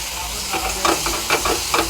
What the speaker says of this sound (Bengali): ধনিয়া পাতা, কাঁচা লঙ্কা, আদা, রসুন, জিরে একসাথে বাটা দিয়ে দেবো